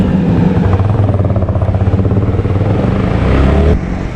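A motorcycle engine runs loud and steady close by while riding on a jungle off-road trip near a waterfall in Borhat, holding a continuous throbbing drone that drops off abruptly near the end.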